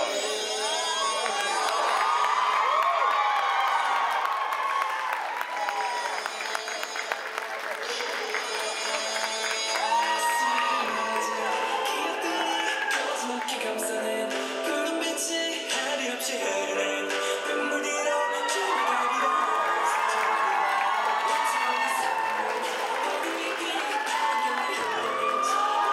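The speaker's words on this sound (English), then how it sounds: "Give them a round of applause." An audience at an anime convention costume contest cheers, whoops and applauds in a loud, sustained roar, with shouts rising and falling throughout.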